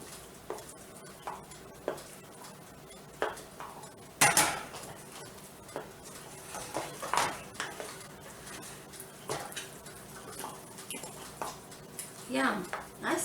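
A spoon scrapes and clinks against a pot of thick grits being stirred, with irregular close knocks and scraping strokes running alongside a person talking.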